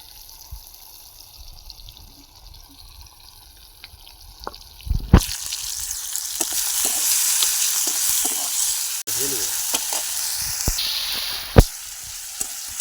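Ginger-cumin paste with chilli powder and turmeric hits hot oil after a few quiet seconds, breaking into a loud, close, crackling sizzle that continues with occasional sharp pops and stirring.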